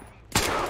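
A sudden burst of loud rapid gunfire from the video game Grand Theft Auto V breaks in after a brief quiet moment, sustained and close.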